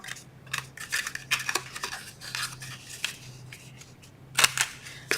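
A handheld corner rounder punches the corners of paper box flaps, giving a series of sharp, close snipping clicks in uneven bursts over a quiet room, with no talking.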